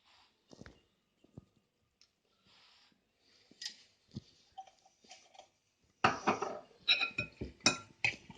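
Eggs seasoned with black pepper being mixed for an omelette, quiet scattered clinks of utensil against bowl at first, then faster, louder tapping and scraping as the whisking picks up.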